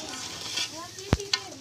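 Small pieces of goat liver roasting on sticks over an open wood fire give a soft, steady sizzle, broken by one sharp crackling pop and a fainter snap.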